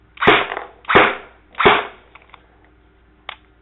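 A Tokyo Marui Scorpion VZ61 airsoft replica fires single shots: three sharp close cracks spaced under a second apart, followed by a fainter click and a small snap.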